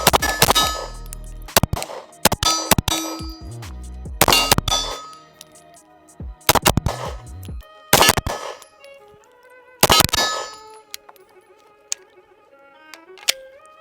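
Sharp pistol shots from a Bul Armory Ultralight race gun ring out in quick bursts, several rapid strings early, then spaced single and paired shots with metallic clangs and ringing echoes trailing between them.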